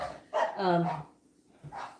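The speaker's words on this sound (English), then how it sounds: "You forgot to shut it up or she's going to keep barking." A female dog barks close by in a short burst of two or three barks, then one more brief bark after a pause, with a voice speaking faintly alongside.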